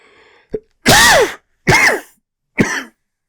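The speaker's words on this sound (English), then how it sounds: "coughing fit." Three loud, harsh coughs in quick succession, close up, with short silent gaps and a small throat sound just before.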